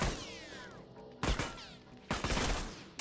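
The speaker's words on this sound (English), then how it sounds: "Because his burst rifle is not upgraded, his isn't firing as fast" Bursts from an un-upgraded burst rifle in a video game, three short sharp clusters of shots spaced about a second apart, with ringing, whistling tails between them and no talk.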